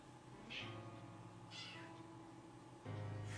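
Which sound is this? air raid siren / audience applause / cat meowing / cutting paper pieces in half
cat meowing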